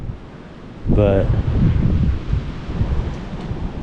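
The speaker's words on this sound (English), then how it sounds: "Very windy out here in the woods too." Strong wind roars through the woods beside the Tug Fork River, a steady low rumble of gusts buffeting the microphone, with a brief spoken word near the start.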